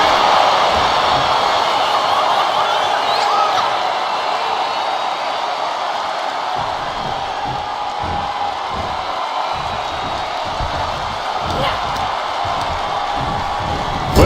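An arena crowd in the WWE 2K25 wrestling video game during a Roman Reigns versus Nikita Lyons match roars continuously at a loud, sustained level, with a broad wash of cheering that holds steady and swells slightly near the end.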